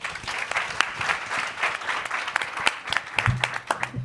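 An audience applauds a panel at a public event on children's healthy development, dense sustained clapping from many hands in a room, fairly loud and close, steady for several seconds.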